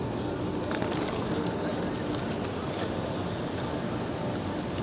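Pigeons cooing outdoors, soft low calls blending into steady ambient background noise with no clear separate bursts throughout.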